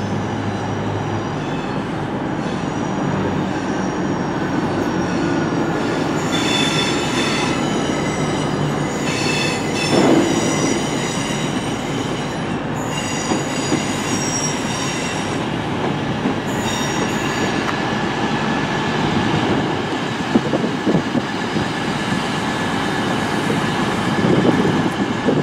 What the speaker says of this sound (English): Next train in is another Northern class 323